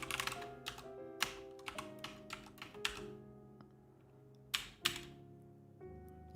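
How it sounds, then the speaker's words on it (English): Bursts of typing on a computer keyboard during a programming session, with quick clusters of key clicks and a couple of louder hard presses over a faint steady background hum. "and I start typing this in"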